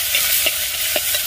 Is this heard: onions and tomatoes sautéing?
yes